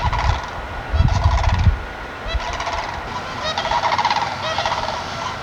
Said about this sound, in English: Those are like some kind of prehistoric looking bird flying over. I think it's ibis